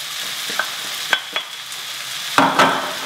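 Aubergine and courgette pieces drop into a pan with softened vegetables, giving a steady low sizzle broken by a few sharp clinks and scraping stirs, louder toward the end.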